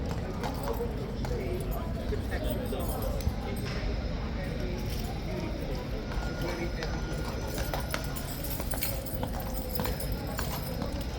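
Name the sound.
horse hooves clip-clopping at Horse Guards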